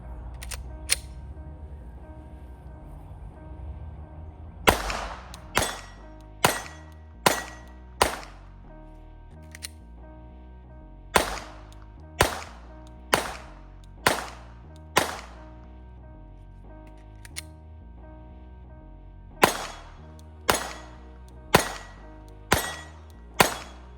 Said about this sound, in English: So we're going to be shooting 147 grain Winchester Defense hollow points